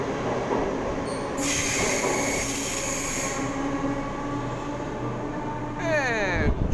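A train rolls out from a platform at Wynyard station, a loud, steady rumble of wheels and carriages with a long high metallic squeal and a rising whine near the end.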